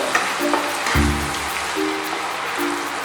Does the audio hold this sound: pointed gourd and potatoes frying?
yes